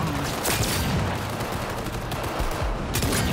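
Pistol shots from the video game Cyberpunk 2077: Phantom Liberty crack out in loud, rapid succession, sharp reports layered over a dense, constant combat din.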